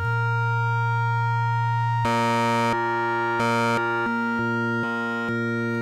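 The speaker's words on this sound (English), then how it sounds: "Now we're hearing a sub octave oscillator here" A sub octave oscillator on a Neutron Sound Dust of Time synthesizer module drones as a steady low tone, joined after two seconds by a brighter harmonic layer that pulses on and off in uneven steps.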